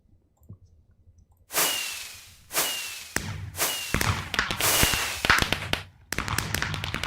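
Minecraft fireworks in a modded game: a string of sharp crackling bursts, each one a sudden bang followed by a fizzing decay, repeating about every second and a half, fairly loud and close, with no talking.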